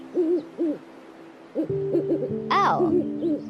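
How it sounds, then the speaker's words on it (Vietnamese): An owl hoots in a repeated series of soft, rounded calls, close and clear, with a brief sharper cry near the end as the hooting continues. "Owl."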